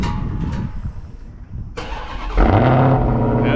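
Dodge Charger Hellcat cold start: a quiet idle-free lull, then a sharp starter crank and loud engine catch that flares into a deep, rumbling high idle, close and alone.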